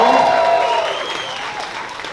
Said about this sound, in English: Married people, make some noise.